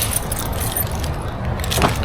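A bunch of car keys jangles close by at a camping food outing. The metallic rattling runs steadily for about two seconds beside a car, with no talking.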